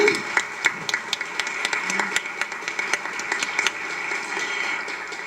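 An audience applauds President Correa with scattered, crackly clapping at a steady moderate level for several seconds, somewhat distant and uneven.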